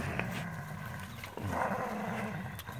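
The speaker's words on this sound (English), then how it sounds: "Duke and Curly playing with the tug of war thingy." Airedale Terrier puppies growl steadily through a tug-of-war game with a rope toy, the low rumbling continuous and close, rising a little partway through, with no talking.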